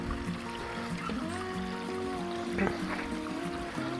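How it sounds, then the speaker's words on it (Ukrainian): Water trickles along a small stream into a garden pond regeneration zone, a steady gentle burble under a constant low hum with brief splashy accents. "Один, другий почав працювати, струмочок, водичка біжить"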